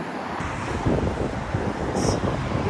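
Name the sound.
wind blowing outdoors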